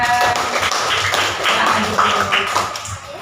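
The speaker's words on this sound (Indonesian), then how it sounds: "tepuk tangan untuk kelompoknya" Students in a classroom applaud a student group with a full, busy round of clapping that holds steady and tapers slightly at the end, with a faint murmur of voices under the hands.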